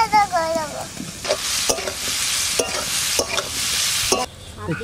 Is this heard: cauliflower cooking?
yes